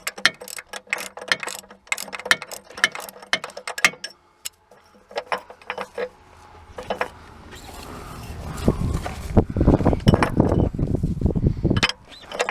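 Ratchet working the 15mm starter bracket bolts loose on a 2006 Montana minivan, clicking in quick runs, then a pause, then a louder rougher stretch of metallic rasping near the end.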